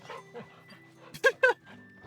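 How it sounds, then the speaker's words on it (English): A dog being petted in Final Fantasy XVI on PS5 gives two sharp, close whimpering yips near the end, with softer dog sounds and a faint steady background before them. "There, you can pet the dog."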